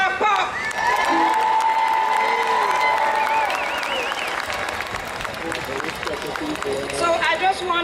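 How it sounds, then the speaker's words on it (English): Large outdoor crowd applauds and cheers loudly and steadily for a reggae singer at a New York park concert awards presentation, with whistles and shouts rising through the dense ovation. "Give him a big clap up"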